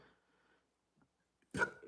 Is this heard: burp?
yes